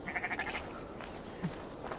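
Sheep bleat in a farm setting in the video game Assassin's Creed Valhalla: a few wavering calls at moderate distance, with a quieter bleat later over soft ambient game background, no speech.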